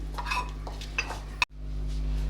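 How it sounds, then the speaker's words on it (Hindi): Gelatin being gently mixed in a pan on the stove, heard as soft scraping and light utensil clinks against metal, with one sharper tap near the end, over a steady low hum. "ये जेलेटिन, इसे हल्के हाथों से आप इसे मिक्स करें"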